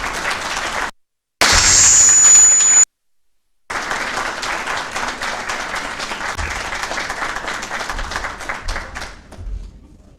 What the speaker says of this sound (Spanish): Por favor, un fuerte aplauso para Horacio Giusto